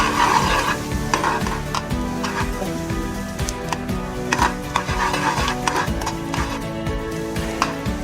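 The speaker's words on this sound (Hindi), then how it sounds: "आराम से इसको हिलाएंगे। धनिया को अच्छी तरह हम ब्राउन होने देंगे।" Coriander is stirred and fried in a pan for a kadhi tempering, giving a constant close sizzle. Busy scraping and occasional clinks of the spoon come through it, and no one speaks.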